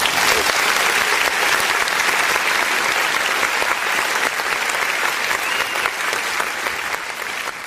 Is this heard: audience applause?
yes